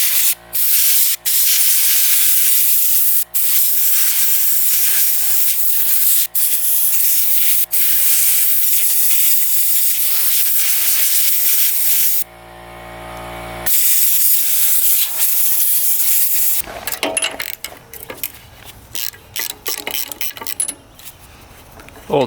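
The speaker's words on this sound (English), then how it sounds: "let's blow it out with an air compressor" Compressed air blasts debris out of a 1950s mini tractor engine with a loud, continuous hiss that runs with only a few brief breaks before turning into choppier rustling and clattering.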